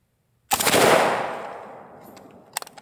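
A single sharp gunshot from an AR-15 or AK-47 fired at a concrete cinder block target, loud and close, with a long decaying echo and a few small clicks afterward.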